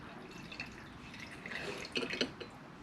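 Soft liquid trickling and splashing as wine is poured into a glass, faint and close, with a few brighter gurgles near the end.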